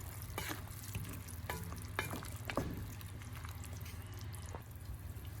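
Beef nilaga being stirred in a pot, with scattered scrapes and clinks of a utensil over a steady simmering sizzle and bubbling, close and without talk.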